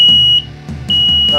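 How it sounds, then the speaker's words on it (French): An X100 SC06-W combined smoke and carbon monoxide detector sounds a loud, steady high-pitched electronic beep, close by, in two long tones separated by a short gap, with faint room noise underneath. "c'est des détecteurs de fumée et de monoxyde de carbone que tu pourras interconnecter ensemble"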